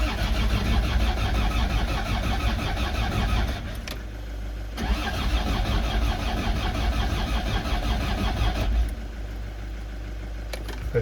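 A Land Rover Discovery TD5 diesel engine cranks steadily without firing, its loud, continuous starter drone repeating in long bursts that pause briefly between attempts, with no talking.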